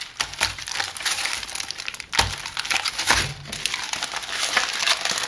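A slab of crisp homemade coconut chocolate being snapped and crumbled by hand, with crinkling and a few sharp cracks close up.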